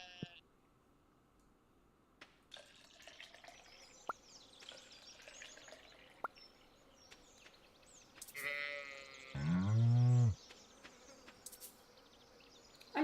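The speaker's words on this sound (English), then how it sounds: "trying to milk the goat, but it won't stop moving" A goat bleats loudly once as it is milked in the farming video game Stardew Valley, over a quiet buzzing, insect-like background with scattered soft clicks.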